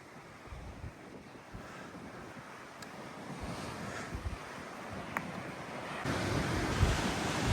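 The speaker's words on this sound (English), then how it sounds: "there's some big waves crashing out there as well" Big ocean waves crashing below a windy shoreline, a continuous roaring surf with wind buffeting the microphone, growing louder and denser in the final seconds, with no voices.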